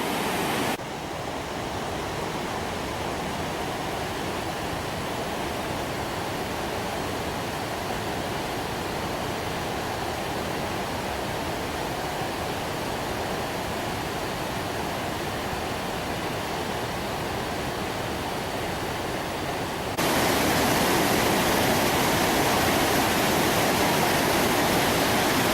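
Water cascades along the Rječina river in a steady broadband roar, close and unbroken, growing brighter and louder toward the end, with no voices.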